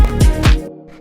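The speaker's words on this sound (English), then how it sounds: "Then after that, we have this little cello" Short synthesized cello phrase from a funky disco house track, two bowed-style notes with a sliding attack and a faint third note trailing off, close and alone.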